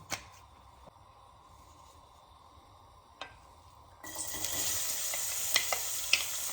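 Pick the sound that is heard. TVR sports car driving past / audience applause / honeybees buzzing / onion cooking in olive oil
onion cooking in olive oil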